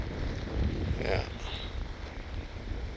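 Steady wind buffeting a camera microphone fitted with a wind muff and electronic filter at an RC jet flying field, landing a Freewing 80mm MiG-21, a constant low rumble throughout with a faint whine above.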